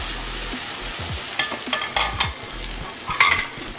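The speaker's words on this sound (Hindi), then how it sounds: "तो लहसुन अदरक के पेस्ट को अच्छे से फ्राई करते हैं।" Garlic ginger paste frying in a pot, with steady close sizzling and bursts of scraping as a utensil stirs it.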